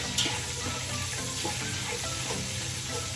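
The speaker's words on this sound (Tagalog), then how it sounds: "ipapry ko muna yung sibuyas. Maraming sibuyas." Steady, loud sizzling of lots of onions frying in oil in a pan, a continuous crackling hiss with faint stirring scrapes, no talking.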